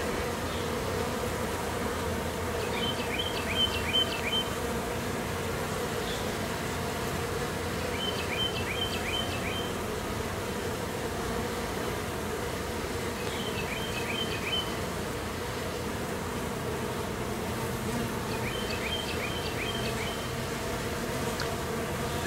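A swarm of honey bees drones around a new hive set a few feet from the old one, a dense, steady, close buzzing that fills the whole stretch, with faint bird chirps recurring in the background.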